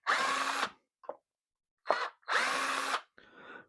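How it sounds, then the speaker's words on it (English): A power drill backs screws out in short bursts: two long whirring runs with brief quick blips between them and a softer spin at the end, close and loud. "make sure the drill goes around the right way"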